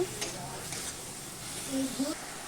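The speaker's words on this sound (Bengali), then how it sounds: "নারকেলটা দিয়ে একটু ভেজে নেব।" Grated coconut mixed with sugar frying in a pan, giving a soft steady sizzle with faint scraping as it is stirred, quiet and close, while a person talks over it.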